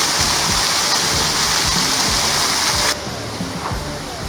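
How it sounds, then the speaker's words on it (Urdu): Artificial waterfalls and fountains in Khalifa Park, Abu Dhabi, give a steady, loud rush of falling and splashing water that runs without pause, easing slightly softer near the end, with no voices over it. "یہاں پہ یہ بہت خوبصورت آبشار ہیں، فوارے بنائے ہوئے ہیں جو بالکل نیچرل منظر دکھا رہے ہیں۔"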